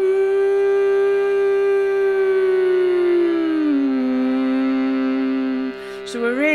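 A shruti box holds a steady reedy drone while a sung note sustains and then glides downward to a lower pitch, ending with a brief breath of movement.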